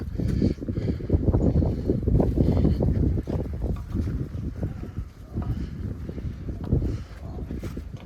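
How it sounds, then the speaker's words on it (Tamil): Strong cold wind gusts steadily across the open Velliangiri hills, a loud, continuous roar buffeting close by with no voices. "பனி பயங்கரமாக பனி காற்று அடிக்குது"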